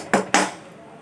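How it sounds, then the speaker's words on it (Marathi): A metal kadhai pan set aside on a kitchen surface, giving two quick clanks about a quarter second apart, close and clear, with a brief ring after each and no talking. "इथे ही कढई आपण बाजूला ठेवून घेऊ."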